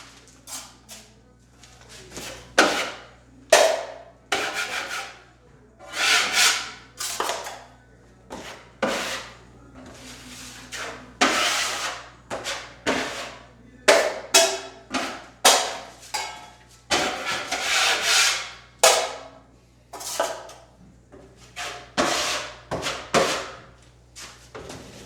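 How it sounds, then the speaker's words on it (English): A drywall knife spotting screws with joint compound on a second coat, a long series of close, rhythmic scraping swipes with short pauses between strokes, no talking. "So let me spot these screws real quick."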